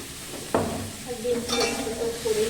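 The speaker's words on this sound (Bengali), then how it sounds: "ভাত হয়ে গেছে আমার, এখন শাক ভাজা হচ্ছে।" Leafy greens fry in a pan at home, with a sharp scrape of stirring followed by steady sizzling and further spatula strokes, moderately close.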